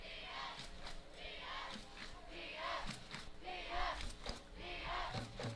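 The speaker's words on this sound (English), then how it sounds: "You can hear the sound of the Mustangs cheering on their team." Mustangs fans cheer at a high school football game, a distant crowd roaring and chanting in rising and falling waves that carry on without a break.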